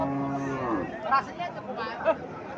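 A cow lowing with a drawn-out moo, surrounded by the murmur of people chatting nearby at a busy outdoor cattle market in Chauddagram, Comilla.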